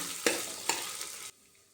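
Ginger paste frying in a pan for vegetable rice, a steady close sizzle with two brief stir scrapes, cutting off abruptly near the end.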